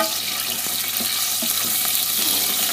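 Onions browning gently in a pan for an Aveyron-style cheese soup, giving a steady, close, hissing sizzle that runs without a break and without any voices.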